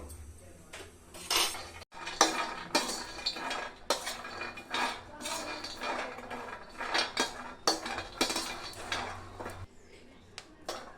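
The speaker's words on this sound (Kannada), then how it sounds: "ಫಸ್ಟು ಶೇಂಗಾ ಮತ್ತು ಬಾದಾಮಿ ಎರಡನ್ನು ಸ್ವಲ್ಪ ಹುರ್ಕೋಬೇಕು" Peanuts and almonds roasting in ghee in a pan are stirred with a metal utensil, producing repeated close scraping clinks and rattling strokes in an irregular rhythm, with little talk.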